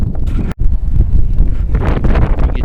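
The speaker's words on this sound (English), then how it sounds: "Get you out of the wind." Outdoor wind buffeting a microphone while metal detecting, a loud, steady low rumble with one brief dropout near the start.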